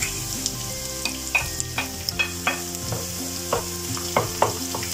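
Garlic sautéing in a pan for pinakbet crackles with a steady sizzle, punctuated by repeated utensil clinks and stirring scrapes, heard up close with no speech.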